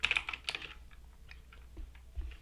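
Quick bursts of clicking keystrokes on a computer keyboard while typing a Minecraft command, close and faint, with a cluster of rapid taps at the start and sparser clicks after.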